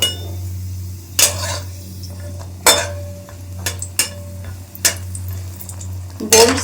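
Peanuts and lentil dumplings fry in hot oil under a low steady sizzle, broken by loud spaced clinks and scrapes of a metal spatula against the pan.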